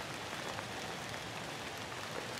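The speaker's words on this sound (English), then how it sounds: "it's raining on me, so I can't get a whole lot of footage" Steady rain falls outdoors during a Virginia deer hunt, a continuous even hiss of drops on surfaces with no breaks, no voices and nothing else standing out.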